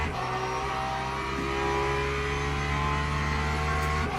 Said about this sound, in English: Let's stay on board Moto in the Porsche 992 911 GT3 with its beautiful boxer engine at the back,